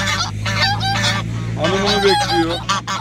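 A male goose honks loudly and repeatedly at close range in a run of harsh, nasal calls, with a steady low hum in the background.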